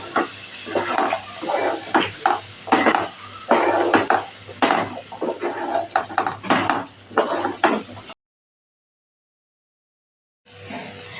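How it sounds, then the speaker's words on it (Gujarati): Metal utensils clatter and scrape in a pan while stirring dambha with masala for Kathiyawadi dambha shaak, with repeated knocks and sizzling scrapes, then a brief silence before stirring resumes. "અને હવે આપણે અહીંયા ડાંભો ઉમેરી દઈશું એને પણ મસાલા સાથે સરસ સાતડી લેશું"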